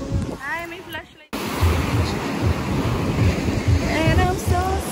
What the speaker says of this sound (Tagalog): Dagat po yan.